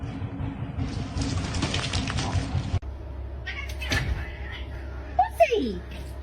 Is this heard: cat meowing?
yes